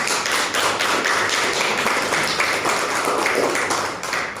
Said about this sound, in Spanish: queremos que le brinden un fuerte aplauso, por favor, a estos especialistas que hoy nos acompañaron